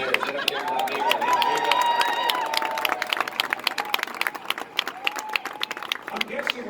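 Sports fans cheer and applaud as baseball players walk in at a team event, a dense crowd roar with scattered claps, steady and loud throughout.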